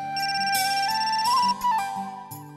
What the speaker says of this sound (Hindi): का फोन आ गया अभी।